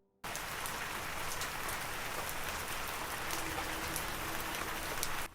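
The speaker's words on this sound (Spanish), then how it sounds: "comenzaron a escuchar y sentir de forma simultánea el sonido de una fuerte lluvia" Heavy rain pours steadily inside a cave, a dense, unbroken hiss of drops hitting surfaces with no pauses or voices, loud and close from start to finish.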